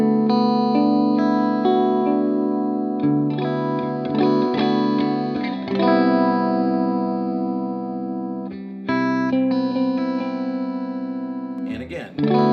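An electric guitar run through effects plays a D6-9 chord progression, several sustained, shimmering chords with chorus-like warble changing every few seconds, close and fairly loud.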